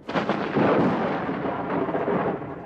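Mountain storm with a deep rolling rumble like thunder that swells loudly and slowly fades, alone without voices.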